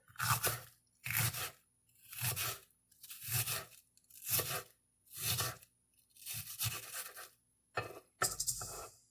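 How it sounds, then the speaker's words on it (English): A kitchen knife dices ingredients for mango salsa on a cutting board, making about nine evenly spaced, crisp crunching chops at a steady rhythm, close and clear with no talking. "we will just dice this up a little bit"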